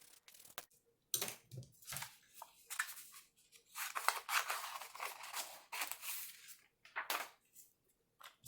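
Scissors snip through white paper to cut out pink-colored hair for a monster bookmark, a series of crisp close cuts in irregular bursts with short pauses, no voices.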